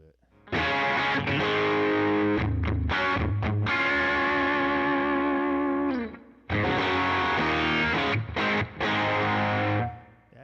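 Electric guitar played through a Line 6 Helix modeler with a Klon-style overdrive set to low gain, tone slightly rolled back: sustained, harmonically rich chords ringing loud and close, with a brief gap before another strummed passage.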